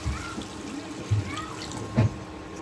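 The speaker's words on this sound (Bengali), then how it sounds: "ঝোলটা দিয়ে দিব।" Broth pours into a pan of Barishal-style egg curry after fried ginger, garlic and spices, giving a soft, continuous liquid splash with a couple of low bumps, fairly quiet and without talk.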